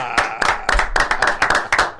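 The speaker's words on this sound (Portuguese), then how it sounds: "Uma salva de palmas!" A small group claps by hand in a podcast studio: about eight sharp, distinct claps in a loose, uneven rhythm over two seconds, close and fairly loud, with no crowd roar.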